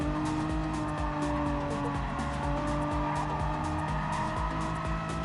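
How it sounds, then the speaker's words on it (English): Megane Trophy race cars in a racing video game, engines droning steadily with tyres squealing through corners as they follow each other into the infield; a dense, loud, continuous mix of motor and tyre noise. "Tyres squealing as they follow each other into the infield."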